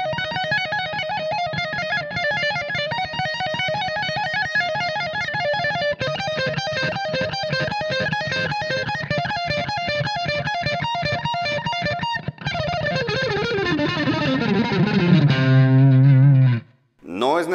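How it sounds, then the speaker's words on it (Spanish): An electric guitar with a moderate amount of distortion plays a steady run of chords and notes, loud and continuous, ending in a descending slide and a brief cut-off. "Puedo tener un nivel moderado, un nivel considerable de distorsión y aplicar este mismo principio de rango dinámico"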